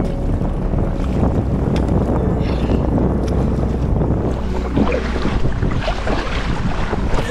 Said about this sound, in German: Der Wind ist zwar nicht ganz so heftig wie auf dem offenen Wasser